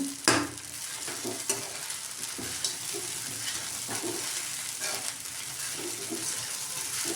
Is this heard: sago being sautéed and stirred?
yes